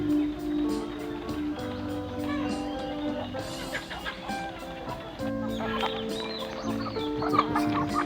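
Plymouth Rock, Light Sussex and Lavender Orpington breeder chickens cluck and call repeatedly in a farm pen, several birds overlapping at moderate distance over a steady background hum.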